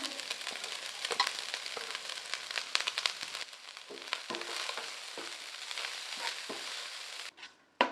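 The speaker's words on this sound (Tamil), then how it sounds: "இது கூடவே பொடியாக நிறுத்தின மல்லித்தலை சேர்த்து நல்லா வதக்கி விட்டுக்கலாம்" Cooked rice tossed with finely chopped coriander leaves in a pan over medium flame for a lunchbox dish, giving a steady close sizzle with scraping stir strokes and soft crackles, falling quiet near the end.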